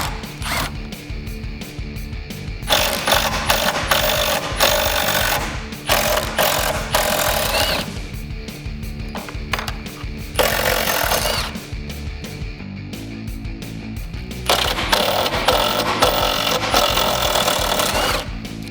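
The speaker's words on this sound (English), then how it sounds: "So you're going to remove these 4 bolts with a 13mm socket." Power tool running in repeated bursts with ratcheting, mechanical whirring as a 13mm socket spins off bolts from a Jeep Wrangler YJ/TJ rear tire carrier and third brake light housing, loud and close with short pauses between pulls.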